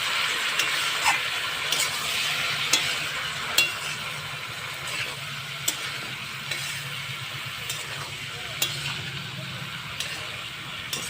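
Potato, eggplant, beans, taro, onion stalks and radish stir-fry in a pan for a morola fish curry, with a continuous near sizzle and regular spatula clinks against the metal.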